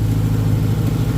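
A 1994 Honda Integra engine runs close and loud, a steady throaty drone with a faint rev under throttle and no voices heard.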